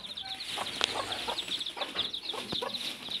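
A hen clucks nearby in a series of soft, repeated clucks with a few sharper notes, fairly quiet, with no talk over it.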